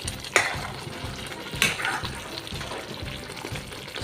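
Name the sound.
egg kofta curry gravy cooking in oil, being stirred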